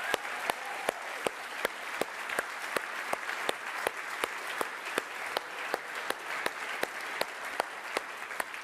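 An audience at a company annual keynote event gives a round of applause, with steady, even clapping that holds for several seconds at moderate distance.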